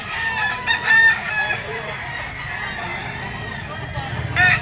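A straight comb Sweater gamefowl rooster crows close by at a busy pet market in Grotto, with clucking fowl around it and people talking in the background.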